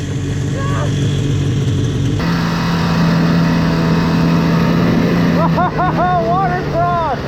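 Vintage snowmobile engine held at about 80% throttle near watercross, a loud steady drone that shifts pitch partway through, with a voice shouting over it near the end.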